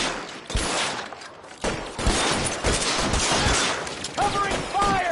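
Dense bursts of automatic gunfire in a PS5 war video game, loud and nearly continuous across the moment, with a voice shouting over the shooting.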